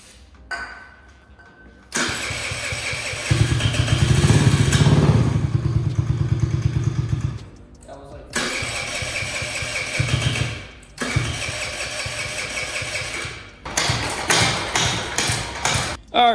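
A cheap secondhand engine with no fuel reaching it cranks over in several long, rhythmic churning bursts separated by brief pauses. It never catches, and a voice is heard between attempts.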